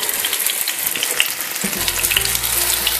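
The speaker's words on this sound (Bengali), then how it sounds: "আমি ঘুরিয়ে ঘুরিয়ে কিন্তু সব দিকটা ভালোভাবে ফ্রাই করে নিচ্ছি।" Paneer tikka frying on a hot tawa, a loud steady sizzle with crackling spatters throughout, a low hum joining near the end.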